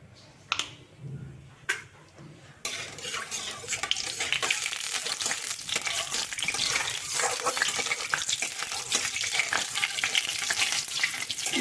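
Whole cumin seeds frying in hot mustard oil in a kadai, first a few isolated clinks and then a loud, dense, continuous crackling sizzle that carries on steadily at close range.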